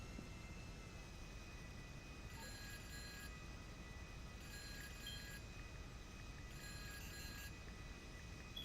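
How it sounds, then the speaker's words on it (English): A phone rings in Grand Theft Auto V: three bursts of bright electronic trilling, evenly spaced, over a constant low hum of game background noise. "Phone call on line 1."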